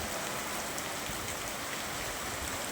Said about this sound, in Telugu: వర్షపు నీరు జోరుగా వెళుతుండడం గమనిస్తున్నాము